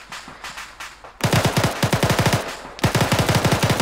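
Machine-gun suppressive fire in the video game Arma 3, delivered as loud, rapid bursts of shots. A quieter, more distant volley comes first, then two long, close bursts of sustained automatic fire.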